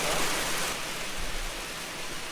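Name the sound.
rain falling outdoors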